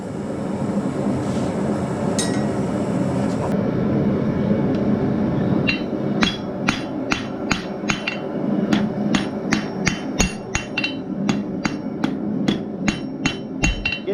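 A blacksmith hammers hot steel to round it, first a steady background rumble, then a long run of sharp, ringing hammer strikes falling in a fairly regular rhythm, close and distinct.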